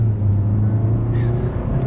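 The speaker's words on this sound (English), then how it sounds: "let's see how quickly we can get the new 2020 Sonata here up to speed" A 2020 Hyundai Sonata accelerating at full throttle, a steady loud engine drone with a rising tone heard from inside the cabin, without talk.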